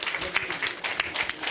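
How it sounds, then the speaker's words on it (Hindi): An audience at a meditation festival inauguration claps steadily to welcome a speaker, a dense, even patter of many hands filling the short moment. "एक बार फिर से तालियों के साथ फिर से स्वागत करिए"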